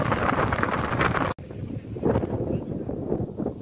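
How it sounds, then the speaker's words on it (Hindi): Gusty wind during heavy rain at Barkan Picnic Point buffets the microphone with a rough low rumble, cutting out briefly, then returning in uneven gusts. "ये देखें हवा भी चल रहा है"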